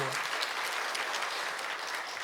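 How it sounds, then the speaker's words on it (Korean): A crowd applauds steadily throughout, a dense wash of clapping from many hands with no pauses. "박수 한번 해주시죠."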